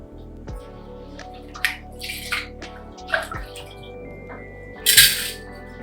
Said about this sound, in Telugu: బియ్యాన్ని శుభ్రంగా ఒకటికి నాలుగు సార్లు కడిగి తీసి పక్కన పెట్టుకోండి